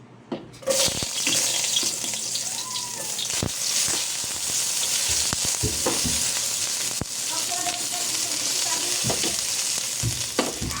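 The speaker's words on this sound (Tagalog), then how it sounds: "So, bibisa ko muna sa bawang sibuyas at luya." Garlic, ginger and onion sizzle steadily in a hot pan, a continuous bright frying hiss with occasional stirring clatter, close and fairly loud, with no talking.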